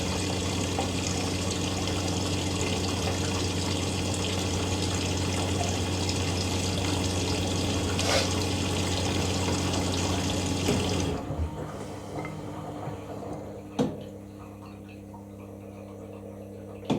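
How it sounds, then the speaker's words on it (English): Water rushes steadily into a washing machine on its final rinse, a constant loud hiss with a faint ticking, then the inflow stops abruptly and a quieter mechanical hum remains with a couple of clicks. "sounds like we're on the final rinse"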